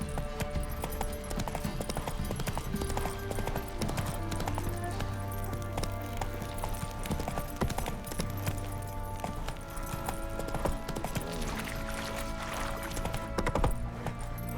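Horse hoofbeats from The Witcher 3 video game, a steady clip-clop of galloping hooves running continuously and fairly loud over a dense bed of game music and ambience, with no talk.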